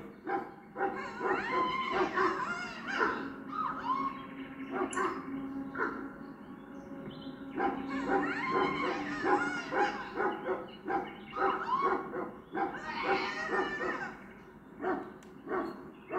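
A Mabari war dog in the video game Dragon Age Origins barks and whimpers in repeated bursts, loud and close, with short pauses between yelps.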